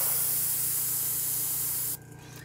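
A hobby airbrush loaded with water gives a short, continuous spray hiss close up, cutting off sharply near the end.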